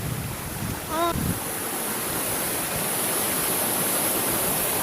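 Broadband rushing of waves at the shore fills the scene, steady and close, with a brief whistle-like tone early on.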